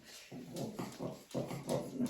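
A female dog whimpers and whines softly nearby, several short nasal cries in an uneven rhythm, faint and with no talking over them.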